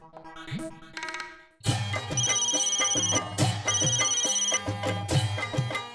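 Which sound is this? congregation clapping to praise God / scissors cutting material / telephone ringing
telephone ringing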